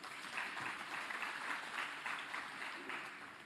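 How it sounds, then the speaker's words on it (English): A crowd at an ANC political rally in Mpumalanga applauds, a broad, continuous rush of clapping and crowd noise that swells and eases slightly, heard faintly and from a distance. "I want us to give a big round of applause to the police"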